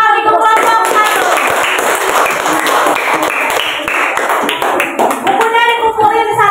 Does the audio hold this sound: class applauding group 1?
yes